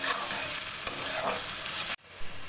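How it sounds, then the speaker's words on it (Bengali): Onions frying in a pan on low heat with a little salt, a steady close sizzle with soft stirring scrapes, then a sudden drop to quiet near the end. "দিয়ে আমি এটাকে অল্প আঁচে আস্তে আস্তে করে নাড়ব।"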